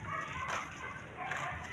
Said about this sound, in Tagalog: May aso ka?